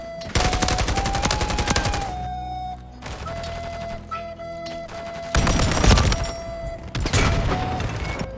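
Video-game gunfire in Modern Warfare III comes in loud, rapid automatic bursts with short pauses between them, close and dense, with a few booming hits.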